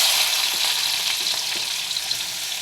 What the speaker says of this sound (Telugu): ఉల్లిపాయలు చక్కగా వేపుకుందాం